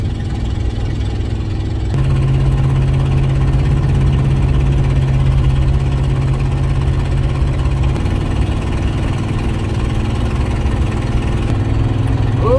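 A car with a leaky exhaust gasket driving along a road in Alberta, with a steady droning engine hum and low rumble, loud and continuous throughout.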